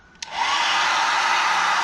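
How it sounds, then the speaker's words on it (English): A hair dryer clicks on and blows with a loud, steady whooshing hiss for under two seconds before cutting off abruptly. "Then you take your finest, mangliest hairdryer you can find."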